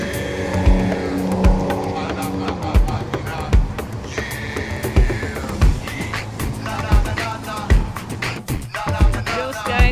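A city bus, route 940, pulls up to a stop where kids and other riders wait, its engine rumbling with squealing brakes and hissing air releases, loud and close, with voices in the background.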